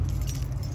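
Keys jangling in a short, close metallic rattle, loud and brief, with no voices.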